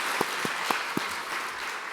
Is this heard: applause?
yes